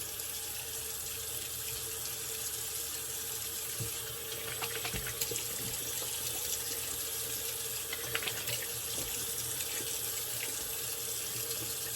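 Water runs steadily from a tap while a flannel is rinsed at a sink, a constant hiss with faint clinks and splashes and no voices.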